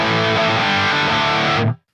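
Electric guitar through the high-gain Diesel amp model of Line 6 Metallurgy, a short, loud, distorted strummed chord that rings and then cuts off sharply, with no talking.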